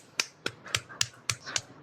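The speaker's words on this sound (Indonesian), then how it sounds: "Kedua, tepuk-tepuk naik turun." Six sharp pats of a hand against the body, evenly spaced about a quarter second apart, close and crisp with no talking between them.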